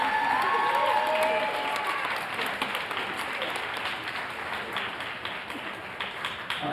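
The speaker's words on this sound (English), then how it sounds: "So give another big round of applause." Sustained audience applause in a school auditorium at a spring band concert, steady and full at first, then gradually thinning and fading, with no talking over it.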